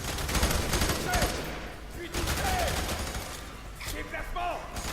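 Gunfire in the F.E.A.R. 3 video game, rapid bursts of shots over loud game ambience and effects, with in-game radio voices talking over them.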